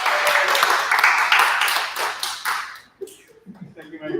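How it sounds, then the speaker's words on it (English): Spring 2022 AGM attendees give Alessia a round of applause. Dense clapping fills the first three seconds, then fades abruptly into quieter room sound as a voice begins talking. "Give you a round of applause for Alessia"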